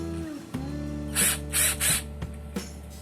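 A Mitsushi cordless drill runs with a steady motor whine, broken by three short, loud, higher-pitched bursts close together and a couple of brief clicks.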